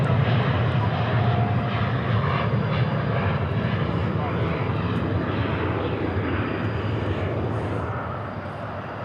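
An American Airlines airliner roars at DFW airport, a loud broad jet rumble close by that slowly fades toward the end, with faint voices talking over it.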